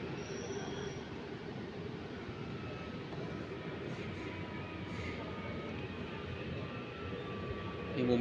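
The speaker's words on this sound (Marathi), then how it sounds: "ये मुंबई मेट्रो का एक शानदार नज़ारा।" A Mumbai Metro train running, with a steady loud rumble of wheels on track and faint wheel squeal throughout, swelling slightly at the end, with no voices.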